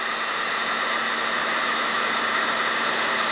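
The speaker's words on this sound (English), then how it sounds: "A hairdryer will take a little bit longer." A hair dryer runs steadily while heating a pan of bullet casting lubricant, giving a loud, constant blowing whir with a faint motor hum and no breaks.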